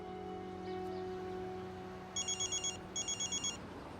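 A telephone rings in two quick bursts of bright, trilling electronic bells, moderately near, against a quiet, faintly humming room with no talk.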